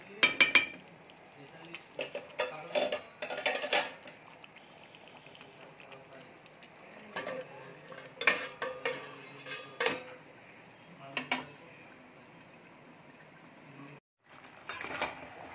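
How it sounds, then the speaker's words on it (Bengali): Mutton cooks down in a pan with its released water, and a spoon stirs it in bursts of clanking and scraping against the metal. Short pauses separate the strokes, with a faint sizzle underneath. "এই জলটাকে পুরো একদম কষিয়ে কষিয়ে শুকিয়ে নেব।"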